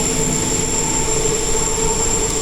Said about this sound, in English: you can see the train go up and down all along the 6 carriages